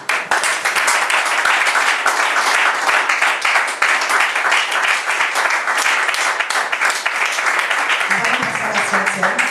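A church congregation at a morning sermon gives sustained, loud applause, a thick wash of many clapping hands. It thins slightly toward the end as a voice starts to come through.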